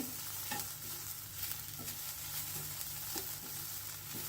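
Ground masala paste frying in a pan for a Havyaka-style recipe, a continuous close sizzle broken by repeated spatula stirring scrapes and taps, with no voices.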